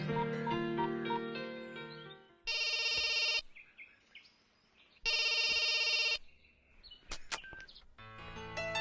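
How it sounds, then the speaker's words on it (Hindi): Telephone bell rings in two loud, bright bursts of about a second each, separated by a pause, with background film music and chirpy tones around them, in a Hindi-dubbed South Indian action movie. "फोन नहीं उठा रहा यार।"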